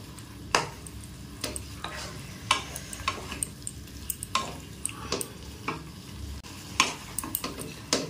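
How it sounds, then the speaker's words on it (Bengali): Chicken sizzles in a pan with frying spices as a spoon scrapes and stirs it with repeated sharp clanks at an irregular rhythm. "চিকেনটা দিয়ে মশলার সাথে ভালো করে মিক্স করে নিই"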